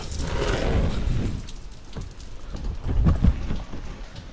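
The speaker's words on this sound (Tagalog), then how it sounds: "Kahit maulan." Rain falls steadily on a Sunday outing to church, a dense patter on surfaces that swells, dips, then swells again, with a few louder splashes and no one speaking.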